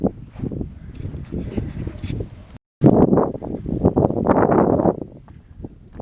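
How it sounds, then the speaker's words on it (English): Gusty wind buffets the microphone in rough, uneven bursts at George Botanical Gardens, with a brief dropout midway, then continues blustering steadily. "Becoming windy"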